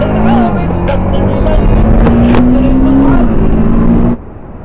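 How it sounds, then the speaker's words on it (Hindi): A motorcycle engine drones loud and steady while the bike rides along a highway toward Jaipur, the pitch rising slightly then dropping, with the sound cutting off sharply near the end. "साउंड ही होती है बाइक से।"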